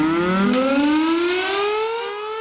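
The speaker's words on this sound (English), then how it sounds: "Every Monday morning, Broadmoor's alarm echoes around the royal county of Berkshire." The Broadmoor hospital alarm siren in Berkshire sounds its weekly Monday test, a loud, steady wail whose pitch slowly climbs, heard alone.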